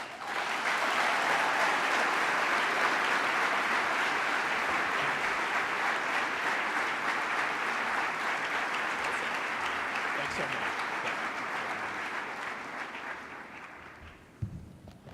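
A large plenary audience at the 2017 YALI Summit in Washington, D.C. gives sustained, even applause that holds steady for over ten seconds, then tapers and fades away.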